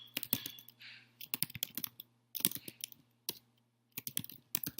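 Clattery keystrokes on a computer keyboard come in quick bursts with short pauses between them, close and fairly quiet with no talking.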